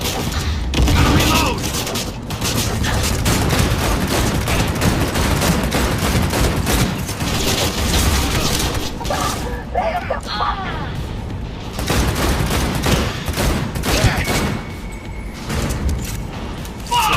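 Rapid bursts of gunfire in the video game Cyberpunk 2077 crackle almost nonstop, with dense shots and booms and a voice speaking in Hindi over the din.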